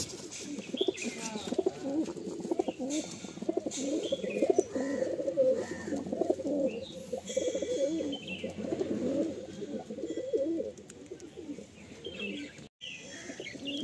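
Pigeons offered for sale coo continuously at close range, with soft overlapping throaty calls repeating in an irregular rhythm and occasional chirps among them, and no talk.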